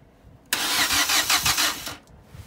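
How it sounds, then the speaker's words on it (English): A salvaged Vauxhall Corsa E under rebuild, raised on a jack, cranks and fires: an abrupt loud start settles into a pulsing idle for about a second and a half, then cuts off sharply, with no talk. "I get obviously the engine to start"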